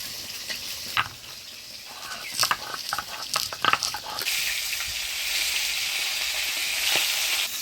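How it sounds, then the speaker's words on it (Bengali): Chela fish fry in hot oil with dried and green chillies, the pan giving a few sharp clatters and crackles before settling into a loud, steady sizzle. "মাছটা ভাজি নিলাম, এবার তুলে নেব।"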